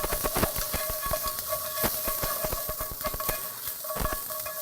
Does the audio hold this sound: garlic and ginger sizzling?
yes